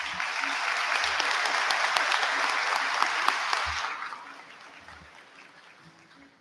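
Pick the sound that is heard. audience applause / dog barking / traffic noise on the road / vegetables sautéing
audience applause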